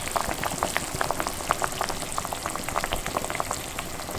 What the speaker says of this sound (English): let this simmer for about 15-20 minutes